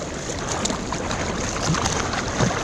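A kayak is paddled at sea against the current between a headland and an island, with soft, irregular water splashes from the strokes under steady wind noise.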